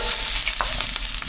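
Aromatics sautéing in hot oil in a wok, a dense, loud, continuous sizzle with a low hum beneath and a couple of faint stirring scrapes, heard close with no talking.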